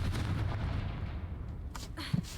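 A Confringo fire spell blast from the Hogwarts Legacy video game, heard as a sustained loud, rumbling burst with a low booming body and a few sharper crackling pops near the end, with no talking.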